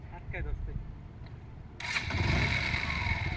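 A motorcycle stuck in quicksand starts up and keeps running with a rough, steady engine drone after a brief stretch of background noise, heard close by.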